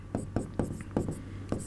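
Chalk taps and scrapes on a classroom board in a quick rhythm of about six short strokes, close and clear over a faint steady hum.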